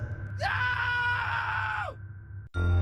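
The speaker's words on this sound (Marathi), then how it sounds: "तेवढ्यात आमच्यातील एकजण विचित्र पद्धतीने किंचाळला" A man lets out a strange, drawn-out horror-style scream, loud and close, lasting over a second before breaking off, followed by a brief burst of another loud sound.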